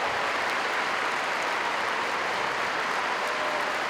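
Applause from a large audience at a charity Christmas sports event for a player, dense steady clapping filling the space evenly, loud and continuous with no talk.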